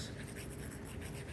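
Pen or marker scratching steadily across a surface while writing out a mechanics of materials calculation, continuous and fairly close with no talking.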